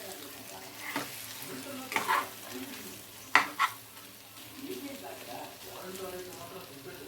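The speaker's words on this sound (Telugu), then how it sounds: "రెండు వైపులా కూడా బాగా వేగిపోయినాయి" Stuffed pointed gourds (parwal) frying in oil in a pan, a steady soft sizzle with occasional clinks and stirring scrapes, while someone talks over the cooking.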